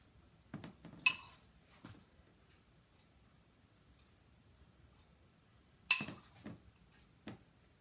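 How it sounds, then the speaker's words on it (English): A metal tablespoon clinks against a dish while scooping filling onto homemade Pop-Tart pastry, two sharp close clinks several seconds apart, each followed by softer taps, in a quiet kitchen. "So grabbing my tablespoon and just putting it right there in the middle"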